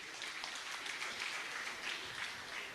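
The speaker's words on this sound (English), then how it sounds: "And as our resident governors receive a warm round of applause from all of you" Crowd applause for district governors at a Rotary installation ceremony, a sustained, even roar of many hands clapping in a hall, continuous from start to finish.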